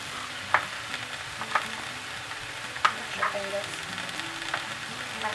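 Red peppers hitting a hot pan for a cauliflower-rice paella, a continuous sizzle punctuated by several sharp utensil taps against the pan, close by and without speech.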